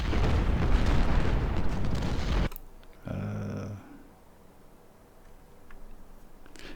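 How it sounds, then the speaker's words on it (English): Cannon fire in Ultimate General: Civil War at Port Republic, a loud rolling battle roar of artillery and explosions that cuts off abruptly, followed by a short tonal burst and quieter distant rumble. "I know you're getting hit from the hill with cannon"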